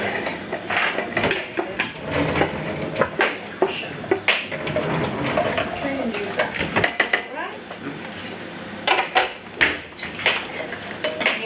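Onion, garlic, chili and peppers tipped into a pan during a school festival cook-along, with repeated clanks and scrapes of utensils against metal, loud and close, mixed with a speaking voice.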